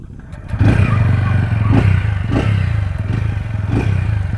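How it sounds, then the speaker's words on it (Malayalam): A TVS Ronin 225 Special Edition motorcycle with its 225 cc engine idles close by, then its exhaust rises into a deep, throbbing note with several short blips of the throttle, heard alone. "ഇതിൻ്റെ കംഫേർട്ട്, അതുപോലെ തന്നെ എക്സോസ് സൗണ്ട് ഒന്ന് കേട്ട് നോക്കി നോക്കാം."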